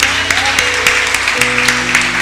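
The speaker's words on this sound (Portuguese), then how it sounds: "Pode aplaudir ao Senhor" Church congregation clapping in praise during a Portuguese-language service, dense rapid applause over sustained organ or keyboard chords, loud and close.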